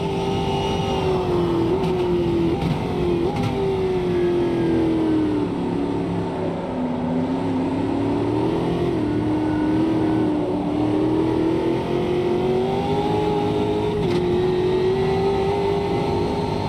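A Brazilian stock car engine roars in a racing simulator, a loud sustained motor note that rises and dips with throttle changes and never cuts out, with no one speaking.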